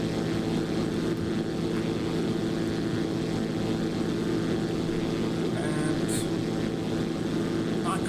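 A Zlin 142 propeller plane drones in X-Plane 11 with a constant, loud buzzing engine tone, steady throughout, with a couple of faint clicks near the end.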